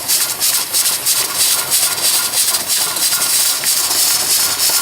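A loud, steady hiss of steam escapes the rocker of a Presto pressure canner while pulled pork is processed, a continuous close rush with faint fluttering pulses and no talk.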